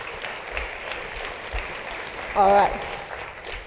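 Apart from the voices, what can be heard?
audience applause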